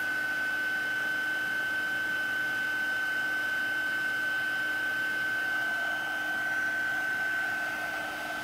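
A heat tool blows a steady, loud whooshing hum from underneath paper to melt embossing powder, running continuously and close without break.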